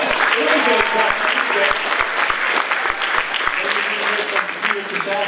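Audience applause at a jazz festival, a sustained burst of loud close clapping that tapers slightly toward the end, with a voice talking over it.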